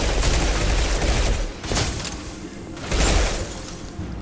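Dense, rapid gunfire from the video game Mass Effect 2 rattles in loud, sustained bursts with brief lulls between volleys, without speech over it.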